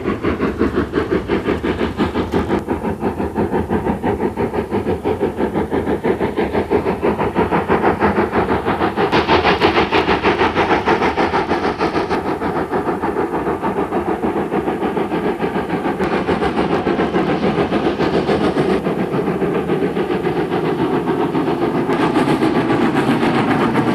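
Steam locomotive 5593 Kolhapur, running as 45698 Mars with a Fowler tender from 42765, working hard with a loud, continuous, rapidly beating exhaust and rumbling train noise throughout, no voices.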